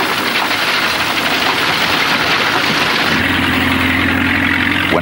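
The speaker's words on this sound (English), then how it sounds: "When a tractor pulled the binder," A tractor engine pulling a reaper-binder through a corn harvest drones steadily and loudly throughout, its tone shifting slightly partway through, with no one speaking.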